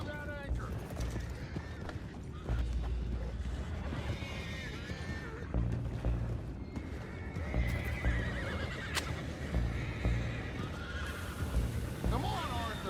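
Horses neighing and whinnying in the video game Red Dead Redemption 2, with hooves clip-clopping and the busy ambience of a game scene, the calls rising above a steady wash of sound.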